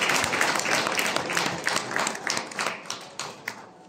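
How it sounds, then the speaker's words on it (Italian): A crowd at a town fair claps for the outgoing mayor. The applause is close and steady, then thins into scattered claps as it dies away. "facciamogli un applauso"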